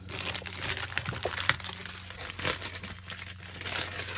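Foil wrapper of a 2023 Topps MLB baseball card pack being ripped open, a run of close crinkles and sharp tearing crackles, fairly quiet, no talk.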